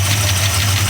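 A freshly rebuilt Ford Fox body car engine running right after startup, with a loud, steady low rumble and a continuous droning hum, close and without pauses.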